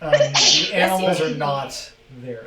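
A single sneeze bursts out amid the chatter of a tabletop game session, with people talking around and after it at close range.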